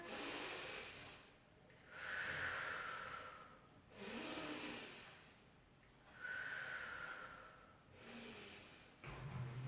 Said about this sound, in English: take a breath in through the nose